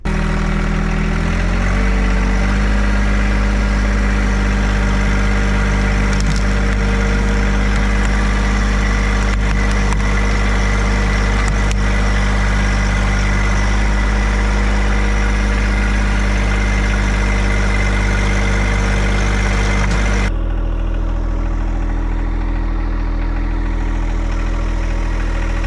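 A John Deere 2025R compact tractor's small diesel engine runs steadily at a low rumble while pulling a branch out, then drops to a quieter idle near the end.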